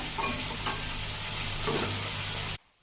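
Onions are tossed into hot oil with frying green chilies for a village-style prawn and tomato curry, a loud dense sizzle under continuous stirring that cuts off abruptly near the end.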